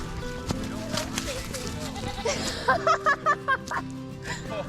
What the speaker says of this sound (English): Get the goat, Bear Bear.